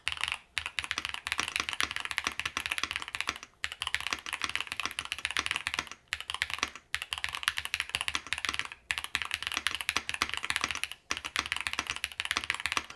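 Typing on a YUNZII AL65 mechanical keyboard: steady, close clacking of keys in bursts separated by brief pauses, with a slightly boomy spacebar thump, alone without talk.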